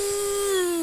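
A voice imitates a leaf blower with a single sustained, steady whine lasting about a second, slowly sagging in pitch toward the end, sung alone without other talk.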